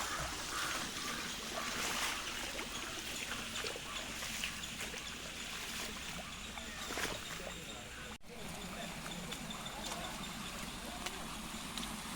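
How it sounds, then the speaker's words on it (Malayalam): Rainwater spilling over from a brimming pond and running across a road in monsoon rain makes a steady, fairly faint rushing wash with no clear pauses. "കുളത്തിൽ നിന്ന് ഒരു സൈഡ് വെള്ളം വന്ന് മറു സൈഡിൽ കൂടെ വെള്ളം നിറഞ്ഞതാ കളയുന്ന ദൃശ്യമാണ്"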